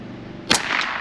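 A Ruger 10/22 rimfire rifle with a budget scope fires one shot at a can outdoors: a single sharp crack, loud and close, trailing off into a brief ring.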